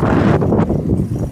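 Wind buffets the microphone while someone rides a bike in Japan, a steady loud rumble with no talking.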